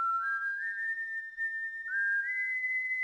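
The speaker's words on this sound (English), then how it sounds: "I know that whistle." Proto Man's whistle from Mega Man 8 plays as a clear, sustained melodic whistle that steps up in pitch, loud and alone with no talk.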